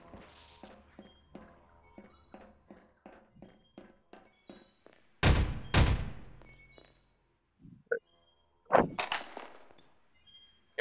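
Gunfire in the VR video game Half-Life: a regular train of about a dozen light shots, then two loud heavy blasts with long decay, followed by a few scattered bursts.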